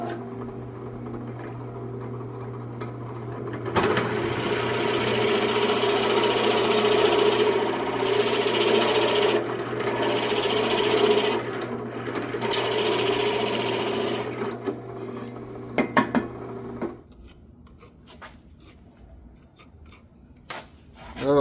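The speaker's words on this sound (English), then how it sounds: "so let's drill" A power drill whirs steadily for about thirteen seconds with a high motor whine while boring into a wooden stair baluster, then stops, leaving quieter handling noises.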